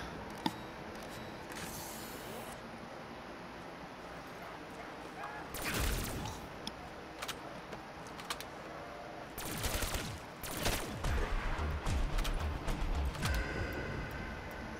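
Ray gun fire in Call of Duty Zombies, several loud bursts of sci-fi weapon blasts and rapid shots over continuous game noise, with a player talking at times.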